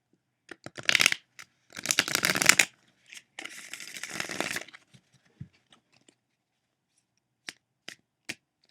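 A tarot deck is shuffled up close in three quick riffling bursts, followed by a few soft, isolated taps of the cards in a quiet room.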